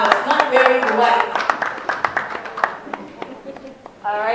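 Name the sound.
audience applause for the lawyer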